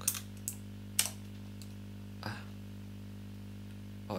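A few sparse keystrokes on a computer keyboard, isolated clicks spaced out over a steady low electrical hum, with no talking.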